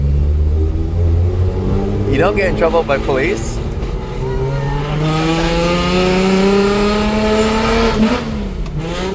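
Loud, close engine revving from a Hakosuka Skyline GTR, climbing and falling in pitch through several surges, with people talking over the roar.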